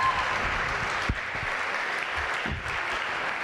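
Audience at a Saint Nicholas concert applauding steadily, a dense wash of clapping heard throughout at moderate volume.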